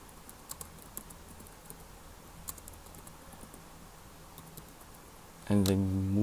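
Soft keyboard typing on a computer, filling in a project information form, faint scattered keystrokes under a low steady background, with a brief louder voice cutting in near the end.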